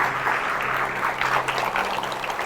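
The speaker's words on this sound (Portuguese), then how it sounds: "Vamos dar uma salva de palmas a São Bento?" Brief burst of audience applause, a steady wash of clapping from a crowd, moderately loud.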